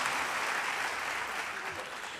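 A convocation crowd gives department chairs a round of applause, with steady, full clapping across the whole moment and no speech over it.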